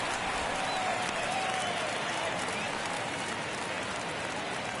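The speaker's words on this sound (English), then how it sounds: "Crowd locked in right now." Crowd at a baseball stadium during a tight ninth inning, a dense sustained roar of cheering and applause from a large distant audience, even in level throughout.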